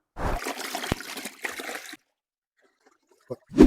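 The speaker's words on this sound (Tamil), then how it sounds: "இந்த கரையான சட்டையை ஒரு டைம் அலாசிக்கலாம்." Water sloshes and splashes for about two seconds as a stained shirt is swished around in a bucket, then goes quiet before a couple of short splashes.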